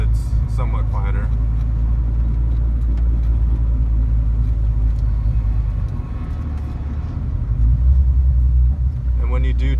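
A Subaru Impreza 2.5RS GC8 with an aftermarket exhaust rumbles steadily from inside the car while driving, a low continuous drone that swells slightly near the end, with a person talking over it.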